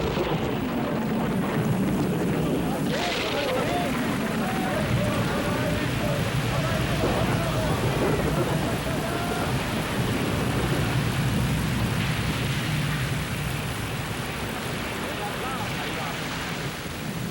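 Thunderstorm with steady heavy rain and rumbling thunder over a stormy sea, a continuous loud wash of noise throughout, with a voice speaking over it.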